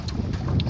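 Wind blowing steadily across an open rural countryside spot at the edge of a rice field, a constant low buffeting rush against the microphone with no voices.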